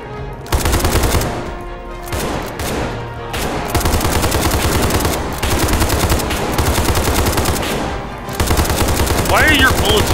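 Rapid bursts of automatic gunfire from the video game SCP Pandemic, loud and near, firing in long sustained streams with brief gaps, with a voice speaking faintly beneath.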